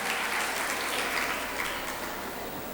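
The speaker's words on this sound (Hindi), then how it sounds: "एक बार जोरदार ताली बजाएं आप लोग" Steady applause from an audience at an Independence Day event in Dimapur, a dense wash of many hands clapping at a constant level throughout, with no speech over it.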